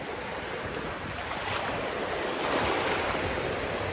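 Sea waves wash in a steady, broad roar with gusting wind, swelling slightly toward the end, with no voices.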